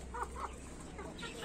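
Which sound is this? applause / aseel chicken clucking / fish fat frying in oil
aseel chicken clucking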